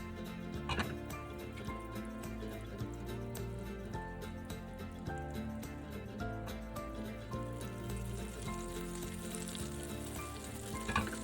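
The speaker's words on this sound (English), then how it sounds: "We're going to stir it a little less because I like to have a bigger curd, bigger pieces of egg." Scrambled eggs are stirred in a pan coated with a small pat of butter, giving a steady, close sizzle and fry with light scraping, along with a background music bed that runs throughout.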